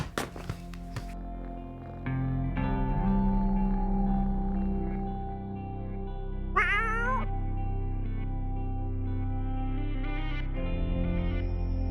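A cat meows clearly several times, loud and close, over a background of processed, echoing musical tones.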